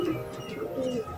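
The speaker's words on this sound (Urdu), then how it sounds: "بہت ہی شاندار قسم کی یہ کبوتری ہے۔" A female slate-grey pigeon with pink-sheened feathers coos in soft low repeated phrases, close and steady through the whole short stretch with no talk.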